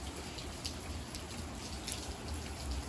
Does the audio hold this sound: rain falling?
yes